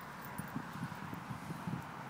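A horse moves about nearby outdoors, its hooves landing as faint, soft, irregular thuds over a low background hiss.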